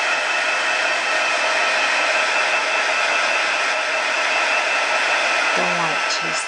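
A heat tool blows steadily to dry watercolor on card, a constant loud broadband whoosh that runs unbroken throughout, with a brief faint voice near the end.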